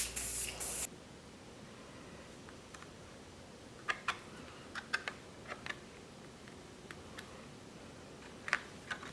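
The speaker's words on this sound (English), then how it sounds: "I'm gonna use, again, some more 505 spray." A brief, sharp hiss of a can of 505 temporary adhesive spray at the start, used for machine embroidery, then light clicks and taps over a quiet background.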